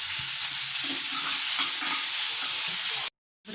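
Aloe vera pulp fries in a pan with a continuous, bright sizzle and soft stirring sounds, close up, cutting out abruptly for a moment near the end.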